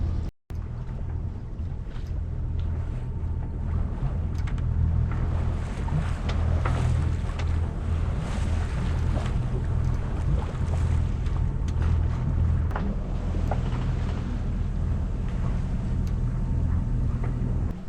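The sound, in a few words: sailboat under way at sea in wind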